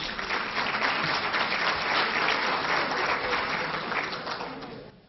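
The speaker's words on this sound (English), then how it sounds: "It's nice that you got some applause as well, Harold" An audience at an education conference question-and-answer session claps steadily, a dense sustained round of applause that holds even and then fades out at the end.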